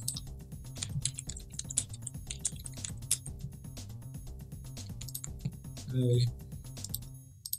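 Computer keyboard clattering with quick, irregular keystrokes at close range while writing Minecraft Forge mod code, running under a brief spoken word and a short hum near the end.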